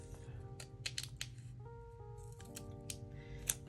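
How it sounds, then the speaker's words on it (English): Scissors cutting a sheet of journaling paper in half, a few quiet crisp snips close by, with low tonal background hum and no speech. "So maybe I will just cut it in half."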